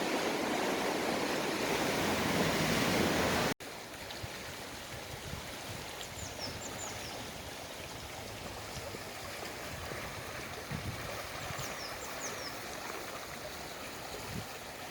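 The River Itchen near Winchester flows with a constant broadband rushing; a louder, closer wash of water fills the first few seconds, then drops abruptly to a steadier, softer stream noise.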